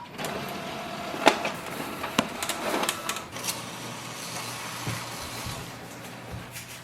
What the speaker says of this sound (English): Printer nozzle check that is recommended, so click yes